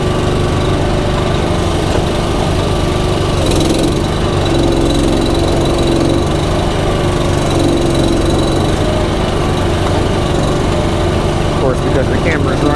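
A gas firewood processor engine runs loud and constant close by while the grapple loads logs, a dense unbroken engine drone with faint clanks from the machinery over it.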